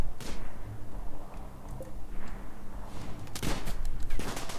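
Scattered gunfire in RimWorld, with sporadic small shots and a louder burst near the end, over a steady background wash.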